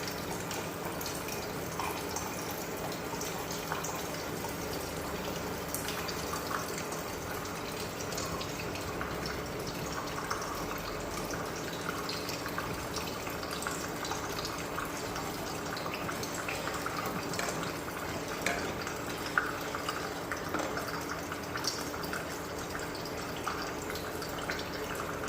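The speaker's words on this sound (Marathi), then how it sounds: "आणखी एक 2 ते 3 ग्लास पाणी घालूया त्याच्यामध्ये." Water poured steadily from a spice bowl into a pan of ridge gourd curry cooked with black masala, a continuous close splashing gush with faint drips and no talking.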